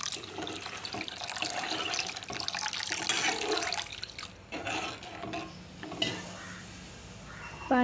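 Water being added to a pan of prawn curry cooking with kokum, a continuous pouring and sloshing close by that trails into softer splashes and stirring, with no talk.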